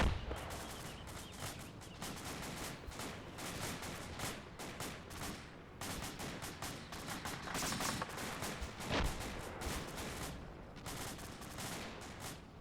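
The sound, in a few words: machine gun fire in the video game Arma 2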